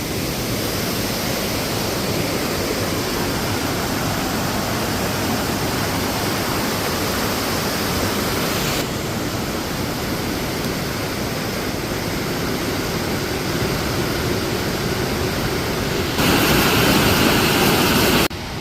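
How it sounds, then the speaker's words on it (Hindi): Rushing mountain stream water in Danpur, Uttarakhand, a steady broadband roar that fills the whole stretch without pause and swells slightly louder near the end. "ये नदी का पानी कितना अच्छा लग रहा है"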